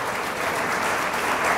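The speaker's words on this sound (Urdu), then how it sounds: "آئے ہم خدا ان کے جلال کے لیے زوردار تالیاں بجائیں." A church congregation applauding, dense sustained clapping filling the room loudly for the whole moment without speech.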